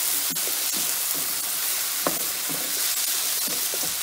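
Chopped onion and tomato cook in a pan for sambar rice, giving a steady close sizzle with regular scraping stirs every half second or so.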